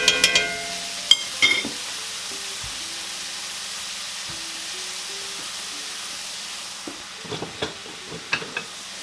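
Diced onion and minced garlic cooking in meat drippings in a skillet, a soft low sizzle with a few scraping stirs at the start and again near the end, fairly quiet.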